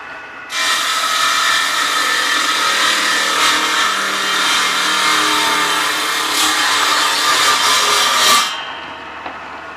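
Table saw slicing through wood for a small wooden box, a loud continuous whine that starts abruptly, holds steady for about eight seconds with slight shifts in pitch, then cuts off.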